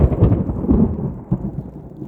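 Low, heavy thunder rumbles loudly and close during a storm, rolling continuously with rain noise beneath it.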